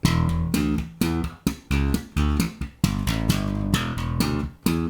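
Bass guitar playing two slapped riffs back to back with a down-up double thumb technique, producing a steady stream of punchy, percussive notes with bright attacks and short gaps between phrases.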